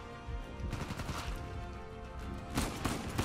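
Gunshots in the action game Uncharted 4 landing a headshot, a quick burst of loud cracking shots over steady game ambience and music, with a sharper cluster near the end.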